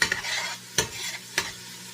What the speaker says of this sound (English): my oil and my garlic and my pepper flakes are sizzling away and doing their thing. I'm just going to give them a little bit of a stir.